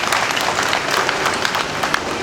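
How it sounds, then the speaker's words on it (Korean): A hall audience at a memorial event for COVID-19 vaccine victims gives dense, sustained applause, close and full, with many hands clapping together and no clear break. "여러분 따뜻한 위로의 박수"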